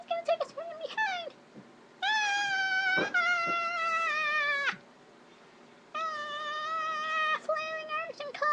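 A cat yowling in long, drawn-out wailing meows, loud and close, with a few shorter chirping cries between the sustained calls.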